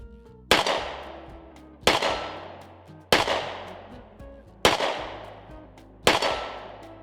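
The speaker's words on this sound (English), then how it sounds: "Try to see how fast I can shoot at the 25 while not dropping a shot." Five sharp gunshots from a Smith & Wesson 442 revolver fitted with a Shield Arms R.O.C., fired at a steady pace about a second apart on an outdoor range, each crack loud and followed by a short ringing decay.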